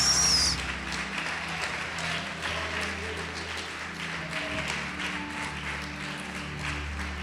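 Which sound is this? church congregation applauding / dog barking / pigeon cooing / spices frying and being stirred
church congregation applauding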